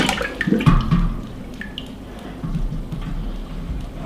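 Water sloshing and draining out of a home-brewing pot on brew day for a dark ale, with splashy bursts early and a softer trickle afterward, close by.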